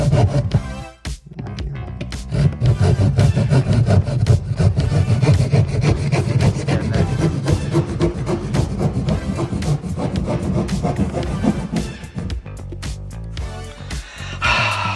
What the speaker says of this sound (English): You can do less pressure too, like let the saw ride a little more.